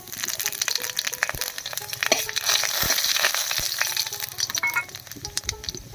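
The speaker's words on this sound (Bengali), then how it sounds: "তেলের মধ্যে দিয়ে দিচ্ছি দুটো শুকনো লঙ্কা হাফ চামচ মতো পাঁচ ফোড়ন" Dried red chillies and five-spice seeds crackle and sizzle in hot mustard oil in a kadai, a steady close frying hiss broken by sharp pops and spatters, with no voices.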